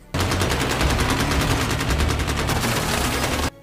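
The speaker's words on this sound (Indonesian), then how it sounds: "Pasukan Lloyd baku tembak dengan pasukan SWAT Praha yang sedang menahan dan melindungi agen Six." Sustained automatic gunfire from a gunfight between mercenaries and Prague SWAT police in the film The Gray Man. Loud, rapid bursts run continuously for about three seconds, then cut off abruptly.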